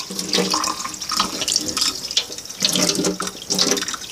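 Hot water poured from a jar into a sink drain, a steady splashing, gurgling pour with uneven surges, close and fairly loud, with no voices.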